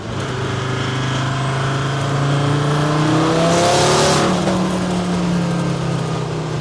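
A Series 1 Land Rover with a swapped-in OM605 turbo diesel, about 435 bhp, accelerates hard as boost builds, its engine note rising steadily under loud, constant road and wind roar, heard from inside with no talking.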